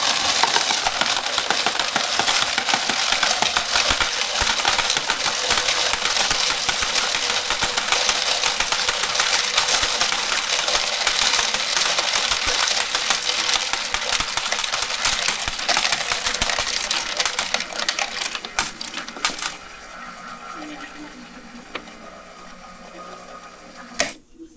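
A coin counter machine with a sorter attachment runs loudly, coins rattling and clinking continuously as they are sorted and counted, before the machine winds down into quieter clicks near the end.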